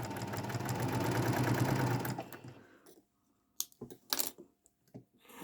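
A sewing machine stitches quilt pieces in a steady, fast mechanical whir for about two seconds, then stops, followed by scattered clicks and handling noises in near silence.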